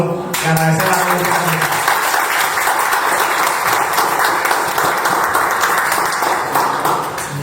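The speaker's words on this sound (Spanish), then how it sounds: "quiero darle a los dos un fuerte aplauso y agradecer a todos" Strong, sustained audience applause in a studio program setting, a loud continuous roar of clapping that holds evenly from start to finish after a brief tonal sound at the very beginning.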